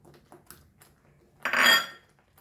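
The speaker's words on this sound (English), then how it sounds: "So once we get a boil, we will add our mango to this." Mango pieces drop into a pot of boiling Goan green chutney for ghotache sasav, making one loud clattering, sizzling splash after a few faint clinks of utensils.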